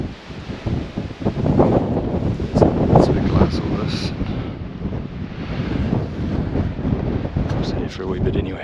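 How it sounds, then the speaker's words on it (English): Breezy evening wind on an open New Zealand hillside, buffeting the microphone with a loud, gusty roar that rises and falls for several seconds, with no voices. "For a wee bit anyway, it's a bit breezy."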